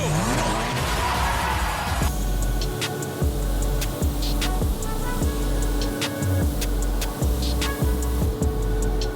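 A car launches hard from a standstill with a loud, rising engine roar and rapid gear-change surges. Rhythmic rumbling pulses and sharp ticks follow in a steady cadence, heard close throughout.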